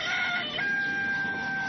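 A rooster's crow played back from a phone sound app, one loud, drawn-out cock-a-doodle-doo with a slightly thin, tinny quality and no talk over it.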